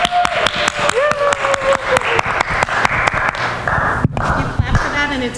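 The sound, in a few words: audience applause for Greg and Angela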